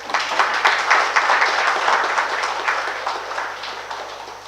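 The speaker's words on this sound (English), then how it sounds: "give a round of applause" An audience at a university program session claps steadily in a room for several seconds, a dense, close patter that slowly fades toward the end, with no voices over it.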